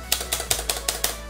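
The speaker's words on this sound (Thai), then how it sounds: "ตอนแรกเรากดสเปคบาร์ครับ ฟังเสียงฮะ" The spacebar of a Dragonic Javelin Black gaming keyboard pressed repeatedly: seven crisp, close clacks at an even, quick pace, each followed by a short rattle.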